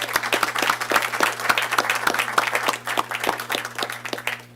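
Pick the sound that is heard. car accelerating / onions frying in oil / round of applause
round of applause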